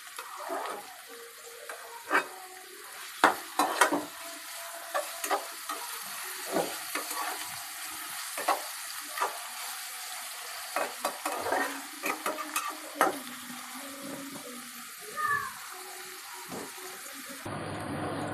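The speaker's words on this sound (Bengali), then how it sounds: "পেঁয়াজটাকে নাড়াচাড়া দিয়ে পেঁয়াজটাকে ভেজে নিব।" Onions being stirred and fried in a pan for a dried fish bhuna, with a quiet steady sizzle broken by repeated sharp scrapes and knocks of the spoon, close up and without talk.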